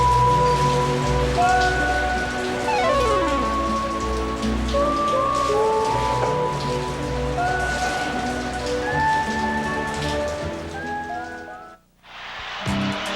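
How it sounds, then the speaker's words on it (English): Steady rain falls at Veterans Stadium during a baseball rain delay, a dense continuous hiss with sustained musical tones layered over it. The sound briefly cuts out near the end. "yet another rain out here at Veterans Stadium"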